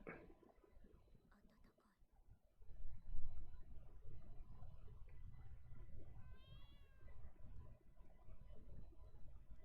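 A cat meows in an anime episode, a short faint mew rising near the end over quiet background noise and soft whispered voices.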